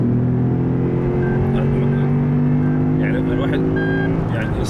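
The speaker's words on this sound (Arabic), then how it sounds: "صوت ماكينة مرعب" A 2012 Lexus IS F engine accelerates in Jeddah, a loud, steady low drone with a rising whine heard from inside the car.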